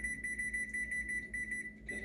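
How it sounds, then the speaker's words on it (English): A kitchen timer set while a smoked turkey rests gives off a steady, rapid electronic beeping, loud and close, with no talking over it. "So I'm just going to set a timer"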